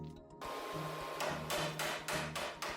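A hammer strikes repeatedly, five sharp impacts spaced at a steady rhythm, loud and close over a constant background hum.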